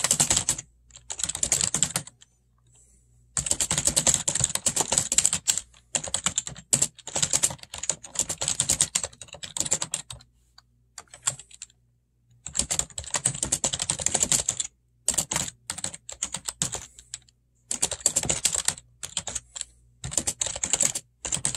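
Computer keyboard typing comes in bursts of rapid, close clicking separated by short pauses, with no voices present.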